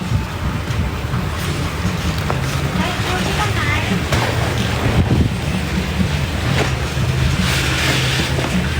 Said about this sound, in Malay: Ya Allah angin kuatnya weh